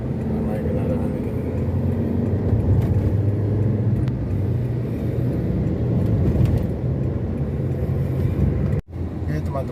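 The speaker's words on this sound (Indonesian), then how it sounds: "Ramai kendaraan ini." Busy road traffic heads toward evening, a continuous rumble of passing cars and vehicle engines close by, with a voice talking over it before a sudden cut near the end.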